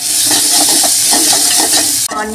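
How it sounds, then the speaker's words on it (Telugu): Onions sizzle loudly in hot oil in a pan as they are stirred, a close, continuous frying hiss with stirring scrapes that cuts off abruptly near the end. "ఆయిల్లో కొంచెం ఆనియన్స్ అయితే ఫ్రై చేసుకున్నాం."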